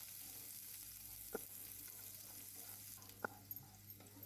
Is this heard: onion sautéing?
yes